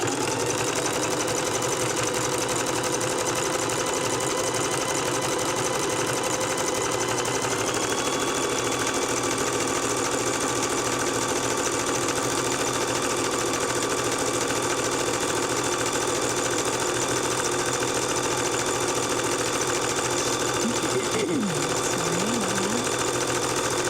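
A sewing machine runs steadily while stitching fabric-wrapped rope into a bowl, a continuous mechanical whir and hum with a shift in pitch partway through and a brief change near the end.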